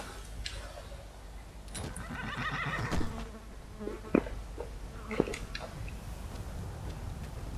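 A horse in the video game Skyrim neighs once in a drawn-out whinny, set against a thin, buzzing outdoor game ambience with a few soft thuds.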